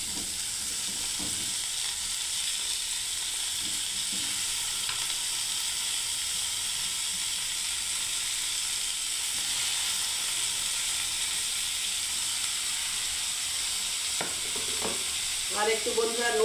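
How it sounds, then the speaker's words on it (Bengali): Tomatoes sizzling in a frying pan with onion and garlic for lentil dal, a continuous loud hiss of frying with a few faint stirring clinks near the end. "এবারে বন্ধুরা আমি টমেটোটাও দিয়ে দিচ্ছি।"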